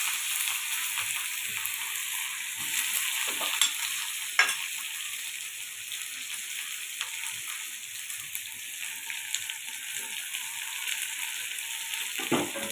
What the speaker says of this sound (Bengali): পেঁয়াজগুলোকে ভেজে দেবো